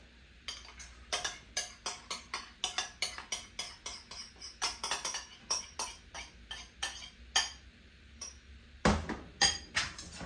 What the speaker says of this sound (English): So I'm going to whisk my eggs together.